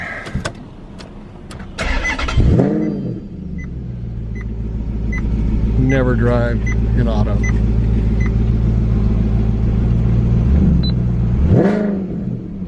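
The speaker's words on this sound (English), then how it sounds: "Warm start on the Maserati." A Maserati engine cranks and catches on a warm start, then idles with a deep rumble and is revved a few times, loud and close, with brief speech over it.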